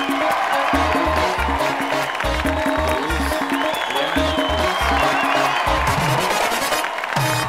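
A studio audience at a comedy talk show applauds loudly as a guest enters, dense clapping with cheers mixed with a pounding music beat, continuous throughout.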